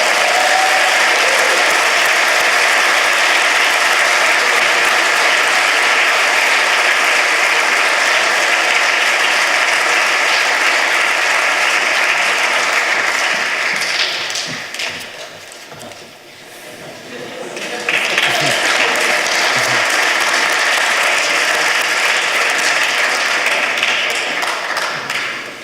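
A large audience applauds at a science prize ceremony, a loud dense wash of clapping that dips briefly midway, then swells again and carries on to the end, with a few voices underneath.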